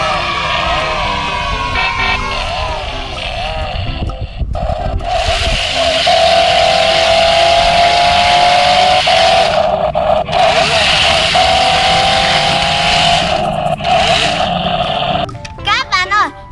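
A remote-controlled toy car drives along, its small electric motor giving a steady, whining buzz that rises slightly in pitch over several seconds, with brief pauses and clicks, and voices in the background.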